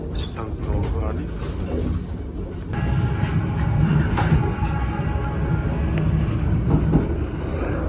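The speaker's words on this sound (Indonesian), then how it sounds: "kereta api Ciremai persiapan masuk stasiun Sasak Saat" Ciremai passenger train rolling along as it prepares to enter Sasaksaat station, a steady rumbling drone that grows slightly louder partway through, with occasional clacks and mechanical whines and faint voices underneath.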